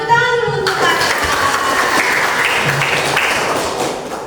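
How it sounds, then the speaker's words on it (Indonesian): A class of seventh-grade students claps for a classmate in a school lesson. The clapping is brief and fairly loud, with a voice talking over the start. "tepuk tangan dulu untuk Tata."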